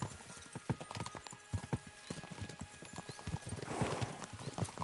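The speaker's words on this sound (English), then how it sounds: "We should spur the horses on." Horses clip-clop at a fast, steady gait in the video game Kingdom Come: Deliverance II, with a run of close, even hoof strikes over a low background rumble and a brief whinny-like swell near the end.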